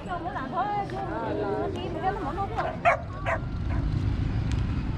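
Puppies for sale at the Sà Phìn highland market yip and bark in quick, excited bursts, close by, over a steady background of crowd babble.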